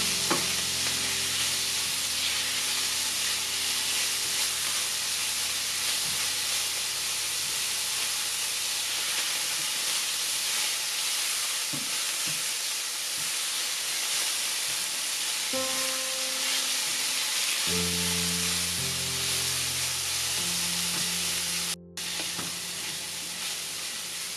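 Tomato and chopped coriander sautéing in a pan for a Bangladeshi tomato vhorta, a steady loud sizzle and hiss with occasional stirring scrapes, no talk.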